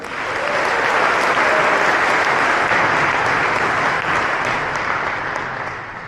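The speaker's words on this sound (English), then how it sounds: "A round of applause for Sergio." An audience applauds a presenter after a product demo at a keynote event. The clapping is dense and sustained, loud and close, and holds steady before tapering slightly near the end.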